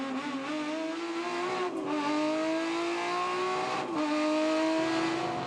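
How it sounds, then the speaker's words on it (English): A Valiant Pacer touring race car accelerates hard through its gears at a circuit. The loud engine note climbs in pitch, drops briefly at each upshift, then climbs again, with other race cars roaring nearby. "Grabbing gears is the Valiant Pacer."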